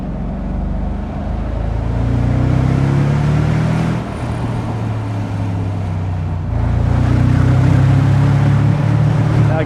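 A 2003 Mercedes SL55 AMG supercharged V8 rumbles from inside the car with a deep steady tone, dipping briefly then swelling louder as it is downshifted to second gear in the manual mode, with no talk.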